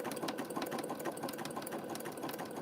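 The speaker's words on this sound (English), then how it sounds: "I'm using a Baby Lock sewing machine." A Baby Lock sewing machine runs steadily, sewing fabric strips for a rope bowl, with a quiet, rapid stitching whir that continues evenly without talk.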